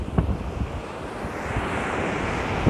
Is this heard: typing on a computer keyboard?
no